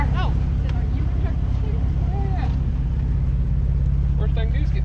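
A white Jeep drives through mud with a steady, loud engine rumble running throughout, while people talk over it.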